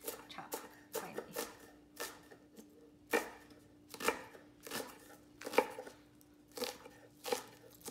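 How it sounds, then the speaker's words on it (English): A knife finely chopping guacamole ingredients on a cutting board, a series of sharp, close, irregularly spaced chops and taps, some in quick pairs, with no talking. "And then just chop finely."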